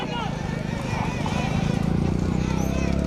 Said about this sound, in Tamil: நடைபெற்றுக் கொண்டிருக்கின்ற பெரிய குதிரை வண்டி பந்தயத்திலே 1 அல்ல 2 அல்ல 6 குதிரைகள் போட்டு